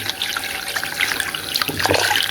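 Running shower water hoses down and rinses 1990s mermaid dolls, a steady close splashing stream with brief shifts as the spray hits them.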